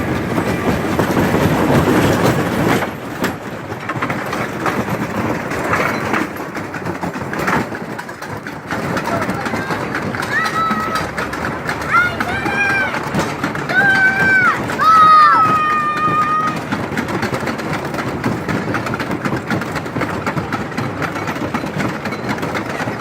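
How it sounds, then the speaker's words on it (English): A 60-year-old Big Dipper wooden roller coaster at Camden Park rumbles and clatters steadily along its track for the whole ride. Wind roar is heard, and riders shout and squeal over the heavy, continuous running noise. "We are now on the Big Dipper. Hold on to your hat, ladies and gentlemen. It's going to be a bumpy ride. 60-year-old roller coaster on the way."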